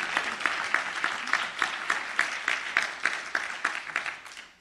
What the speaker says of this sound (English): give the actors a round of applause